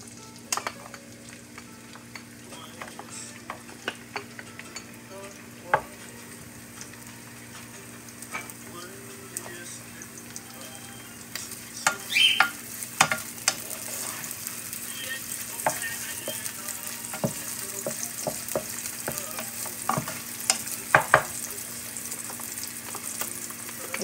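Onion sizzles in hot oil in a pot for squash locro, a steady low fry under frequent scraping and tapping of a spoon as it is stirred, growing a little louder toward the end.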